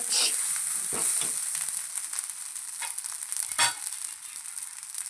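Egg fried rice frying in a hot pan at its final stage, with a steady bright sizzle and occasional scraping stirs of a spatula, close up, with no talking.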